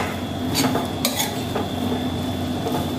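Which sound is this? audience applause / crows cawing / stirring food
stirring food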